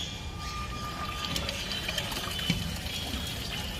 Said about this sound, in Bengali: আর এই সময়তে কিন্তু গরুর মাংসটা ধুয়ে নেওয়া হচ্ছে